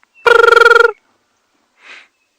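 A brubru calls once outdoors at a safari clearing, a clear trilled burst of rapid, evenly pulsed notes lasting under a second, followed by a faint, short distant sound.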